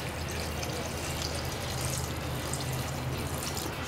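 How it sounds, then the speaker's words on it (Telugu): About two glasses of water are poured into a pressure cooker for mutton soup, producing an unbroken, moderately loud gush and splash that continues evenly throughout without speech. "వాటర్ చూసుకోండి ఎంత వేసుకున్నానో, అట్లీస్ట్ ఒక 2 గ్లాసెస్ ఆఫ్ వాటర్ వేసానేమో"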